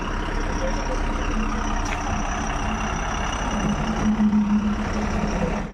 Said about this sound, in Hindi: चलो भाई गाड़ी लेके निकलते।